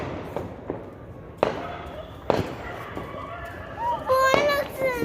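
Firecrackers burst at a midnight New Year celebration, giving a few sharp, separate bangs at moderate distance while children talk and shout nearby.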